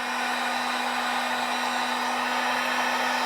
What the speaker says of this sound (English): This is a 1200 watt heat gun.